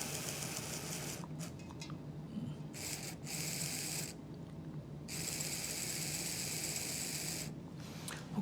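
Small motor of a 1976 model locomotive running steadily after its wheels and gears were oiled, a continuous whirring hum with brief dips and pauses, close and fairly faint, no talking.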